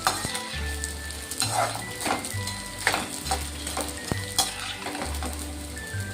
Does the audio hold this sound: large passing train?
no